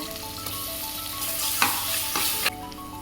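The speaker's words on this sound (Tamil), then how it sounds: "வெங்காயம் நல்லா சவந்து வந்துருச்சு தக்காளி பழம் போட்டுக்கோங்க இஞ்சி பூண்டு பேஸ்ட் போட்டுக்கலாங்க" Onions, tomato and ginger-garlic paste frying in a pan for homemade biryani, with a steady close sizzle broken by several stirring scrapes, with no talking.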